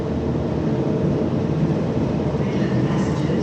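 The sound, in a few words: passenger train departing station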